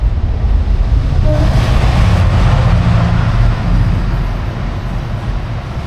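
A steam train roars past close by through a station at speed, with a loud, steady rumble and broadband rush, easing slightly toward the end.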